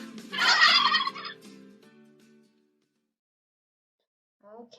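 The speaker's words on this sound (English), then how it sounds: "Let's keep looking because I really want to find a turkey." A turkey gobbles once in a loud, rapid, rattling burst, then the sound fades into silence before a faint second call at the very end.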